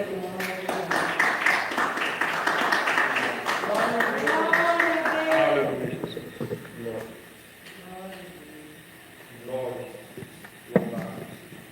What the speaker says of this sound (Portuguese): As palmas mais alegres do Senhor.